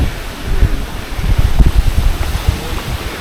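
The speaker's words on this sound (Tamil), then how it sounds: "காற்று சூப்பராக அடிக்குதுங்க." Strong wind on a rocky mountain trek buffets the microphone in low, rumbling gusts, steady and loud throughout with no voices.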